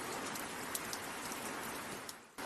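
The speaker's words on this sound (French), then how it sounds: "La pluie qui frappe les fenêtres du bâtiment." Steady rain beats on a building's windows, a dense even patter with scattered sharper drops across the whole stretch, dipping briefly near the end before returning.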